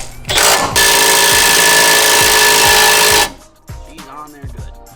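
Impact gun rattles on a coilover end link bolt of an NA Mazda Miata, one loud sustained burst of nearly three seconds, then clanks and a short second buzz of tool handling.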